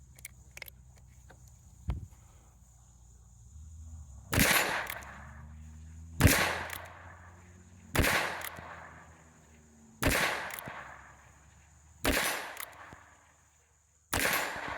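Six or so gunshots from a Ruger-style Rough Rider revolver, fired one at a time at a steady pace about two seconds apart, each a sharp loud crack with a short decaying tail, preceded by a couple of fainter clicks.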